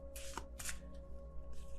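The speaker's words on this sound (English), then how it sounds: "I love this deck, but it's really hard to shuffle because it's really big." A large tarot card deck is shuffled in a few quick riffling bursts, close and soft, over a faint steady hum with no talking.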